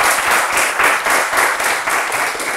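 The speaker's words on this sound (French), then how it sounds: "Merci d'applaudir pour eux" A studio audience applauds contestants after a game-show round, steady dense clapping filling the whole stretch at close range with no voices over it.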